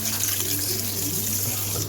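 Tap water runs steadily over raw chicken pieces being washed in a kitchen sink, a close, constant hiss and splash with no breaks.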